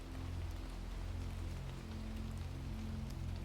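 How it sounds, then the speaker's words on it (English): Soft, steady rain patters on a roof, a continuous even hiss of drops with a low rumbling hum underneath and no voices. "The rain fell on the roof of Dr. Pennyfeather's surgery with a soft and steady patter"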